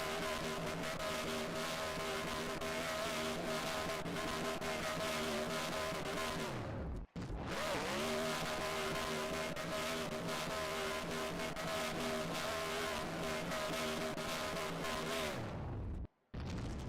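Race car engine from NR2003 during a burnout at Dover, a loud, sustained high-revving drone with steady harmonics that cuts out abruptly twice, briefly after about seven seconds and again near the end.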